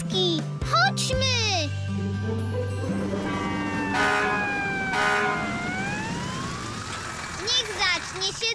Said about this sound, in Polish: Już wiem! Wóz strażacki!